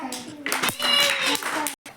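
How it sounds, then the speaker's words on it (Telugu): Children clap together in a classroom during a counting lesson, a short burst of claps mixed with young voices and an adult speaking, ending in a brief pause. "very good claps"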